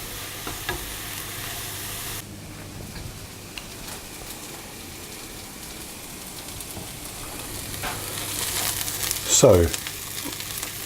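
Shallots sizzle gently in a pan as dried thyme is stirred through them, a steady soft frying hiss with occasional scrapes and a louder clatter near the end, with a brief spoken word.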